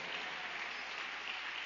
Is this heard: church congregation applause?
yes